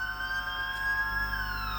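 An ambulance siren at a roadside news scene, a steady high wailing tone that drifts slowly downward, moderately distant and faint over a low rumble, with no talk.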